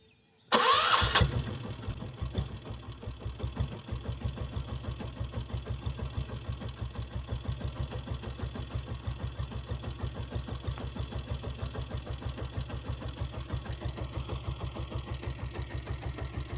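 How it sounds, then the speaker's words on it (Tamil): A Royal Enfield diesel Bullet motorcycle is started with a brief loud burst and then settles into a steady, fast diesel thump at idle. The throb stays even and close for the rest of the clip, with no voices. "இப்போ வண்டியை ஸ்டார்ட் பண்ணி பார்க்கலாம் வாங்க"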